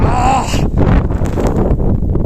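Gusty wind buffets the microphone near the summit of Rysy, a 2499 m peak on the Poland–Slovakia border, making a steady, rough, close rumble with shifting surges throughout.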